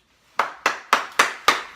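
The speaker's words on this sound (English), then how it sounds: "I'm clapping for you" One person claps five times in a steady, slightly slow rhythm, each clap sharp and close against silence.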